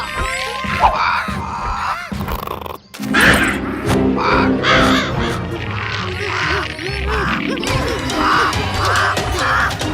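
Cartoon crow cawing in a Chhota Bheem animated episode, repeated harsh caws in a rhythmic series amid lively music and effects, loud and close.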